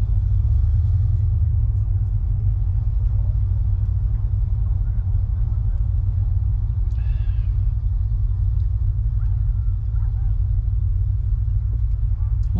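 A vintage car at a show with barbecue and music rumbles with a deep, steady low idle, close and continuous, while faint voices and crowd noise sit in the background.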